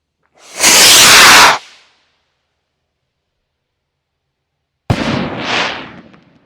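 Super Rocket number 3, one of the biggest firework rockets, goes up with a loud roaring whoosh for about a second, then after a silent pause a sharp burst explodes and crackles fading out, no voices.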